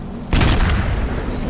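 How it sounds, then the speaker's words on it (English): A grenade launched at a Bradley armored vehicle in the Battlefield Iraq video game lands as one loud, deep boom that rings out and slowly fades after a brief quiet lead-in. "Launch a grenade at this Bradley even though it's in vain."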